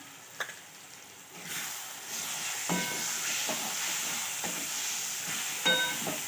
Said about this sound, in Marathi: आता पाच मिनटं आपण मध्यम गॅसवर फ्राय करून घे